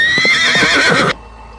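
A horse whinnies loudly as a mock advert effect, a bright wavering neigh with a trace of hoof clip-clop, lasting about a second before cutting off into near silence.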